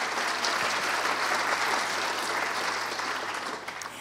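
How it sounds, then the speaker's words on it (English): Sustained audience applause at a youth film festival award show, dense and fairly loud throughout, tapering slightly toward the end. "Everybody give him a big round of applause."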